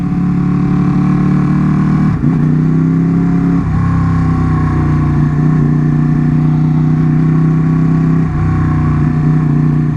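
A Ducati 959 or Aprilia 660 motorcycle engine drones steadily up close, shifting pitch now and then as it rides through traffic, with a constant rush of road and wind noise.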